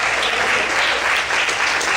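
A church congregation claps and applauds in praise during a Portuguese-language sermon, a dense, even roar of many hands with no voices, holding steady throughout.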